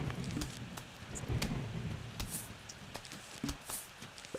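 Rain falls steadily through a stormy night, with low thunder rumbling underneath and scattered louder drops and crackles, no voices present.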